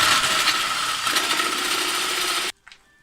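A power drill fitted with a spade bit bores into hard oak wood, a loud steady whining grind lasting about two and a half seconds before cutting off abruptly, followed by a faint brief knock.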